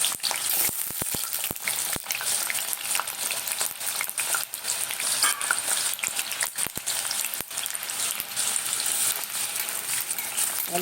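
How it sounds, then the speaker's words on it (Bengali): Potatoes fry in mustard oil in a wok, giving a loud, steady, dense sizzle with scattered sharp crackles and pops throughout, and no voices. "প্রথমে আলুটাকে আমি ভেজে নেব।"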